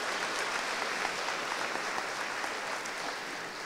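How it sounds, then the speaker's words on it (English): An audience applauds a jazz band at a school district employee awards ceremony: dense, steady clapping from many hands throughout, fairly distant and even, with no voices on top. "Let's give them a round of applause."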